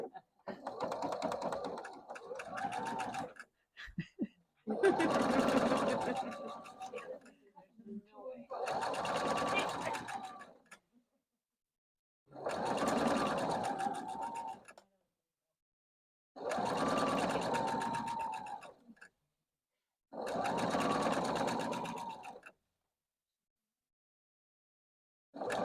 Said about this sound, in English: I'm going to sew these two together and make a little 4